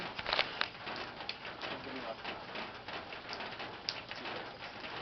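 Rain falls during a late-night storm in steady, moderately loud patter, with scattered sharper drips and splashes close by.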